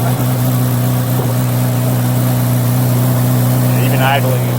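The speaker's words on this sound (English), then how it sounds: "You want to go ahead and start it up? I'll just get some tones out." A C8 Corvette Z06 V8 idles close by with a low, even rumble, while someone speaks briefly over it.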